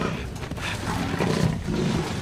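A hungry black panther in a film lets out a deep, rough growling roar, close and continuous for about two seconds, with a rumbling low texture.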